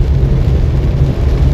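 Heavy rain pours onto a city street in General Santos City, a loud, dense, steady hiss with a low rumble beneath, continuous throughout and with no voices.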